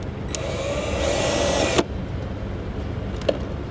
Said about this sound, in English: Now with the 5/16 inch bit driver, we'll use the self-tapping screws to get this in place.